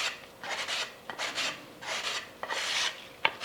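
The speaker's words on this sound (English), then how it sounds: "Card scraper, a little sticky sandpaper on it." Rhythmic rasping strokes of sticky sandpaper on a card scraper rubbing against a wooden guitar neck heel while fitting a heel cap, four or five close back-and-forth passes with a small tap at the end.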